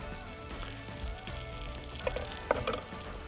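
Butter and olive oil sizzle steadily in a pan, with a continuous close frying hiss and a few scraping stirs and small clatters partway through; no voices.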